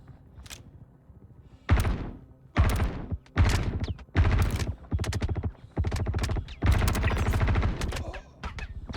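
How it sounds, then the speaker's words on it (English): Loud automatic gunfire in Star Citizen at ArcCorp, fired in about eight separate bursts with short silent gaps between them, close and sharp. "I don't know who they're shooting at."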